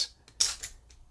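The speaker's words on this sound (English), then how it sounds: "it's a bit like a spray bottle. And you just squeeze his head, and out shoots his" Squeezing the head of a toy dragon spray bottle sends out quick, hissing spritzes of water mist, a few short bursts within about a second, close and fairly quiet.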